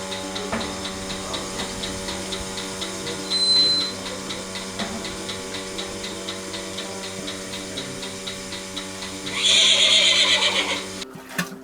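A mare whinnies twice during milking, a short neigh early and a longer, louder one near the end, over a steady ticking background hum.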